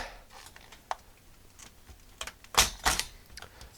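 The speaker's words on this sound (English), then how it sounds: "let's just take that keyboard out again" On a workbench, the keyboard is lifted out of an Atari 65XE computer during a restoration: scattered plastic clicks and taps, then a couple of sharper clunks near the end, close by with quiet gaps between.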